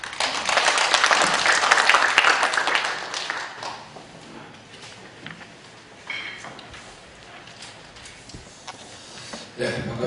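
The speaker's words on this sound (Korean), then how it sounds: "큰 박수 부탁드리겠습니다" Applause from a symposium audience at the National Assembly, a burst of clapping that peaks early, then thins to scattered claps with some murmuring before a final flurry.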